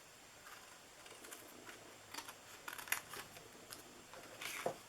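Scissors snip through paper while cutting out a small DIY treat box, a series of faint, quick crisp cuts at close range with no talking.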